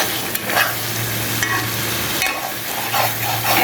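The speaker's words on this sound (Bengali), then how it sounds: "মগজটা দিয়ে এখানে কষাই নিব মশলার সাথে।" Goat brain is stir-fried with spices in a hot pan, giving a steady close sizzle with repeated scraping stirs of a spatula and no voices.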